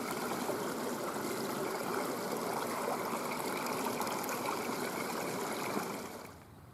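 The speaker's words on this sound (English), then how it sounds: "you can hear nothing apart from running water and birds." A stream at Easedale Tarn rushes steadily, a continuous wash of running water held at an even level, fairly close and alone, dropping away just at the end.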